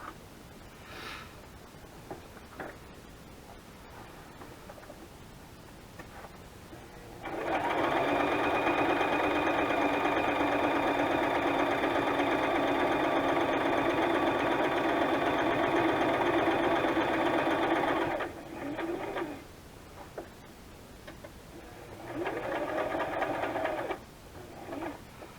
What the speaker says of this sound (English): So just a straight stitch all the way around.